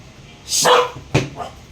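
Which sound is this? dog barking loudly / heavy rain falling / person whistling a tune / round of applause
dog barking loudly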